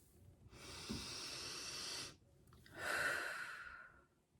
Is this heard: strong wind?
no